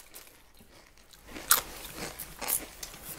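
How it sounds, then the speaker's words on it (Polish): Crisp corn chip bitten and crunched up close, with two sharp, bright cracks about a second apart followed by smaller crackling bits, otherwise quiet. "Kiedy kruchy materiał, na przykład kukurydziany chips jak ten, zostaje nagle zgnieciony"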